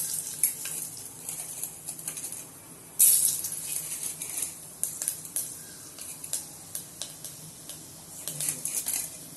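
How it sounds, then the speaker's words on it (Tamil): Mustard seeds splutter in hot oil for greens cooking in a pan, with crackly pops over a steady sizzle. One loud burst comes early and scattered sharp crackles and spoon clinks follow, close and with no talking. "அந்த கடுகு பொரியுது பார்த்தா கேட்குது பாருங்க"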